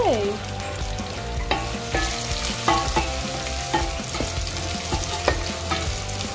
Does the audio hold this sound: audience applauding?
no